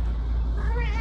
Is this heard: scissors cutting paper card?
no